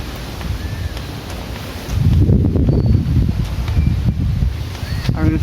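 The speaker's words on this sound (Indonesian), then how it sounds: "Angin sepoi-sepoi." A gentle breeze rustles leaves outdoors, a steady soft wash of noise that swells and grows louder partway through, with wind buffeting the microphone at times.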